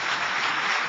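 Brief burst of audience applause at a conference plaque presentation, a dense continuous patter of many hands at moderate level.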